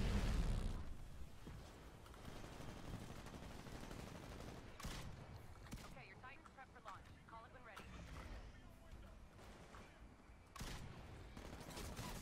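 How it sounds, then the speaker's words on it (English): Gunfire in the video game Titanfall: dense bursts of shots and impacts crackle loudly over a busy game soundscape, with a few sharper blasts standing out. "all I'm doing is getting shot in the back repeatedly"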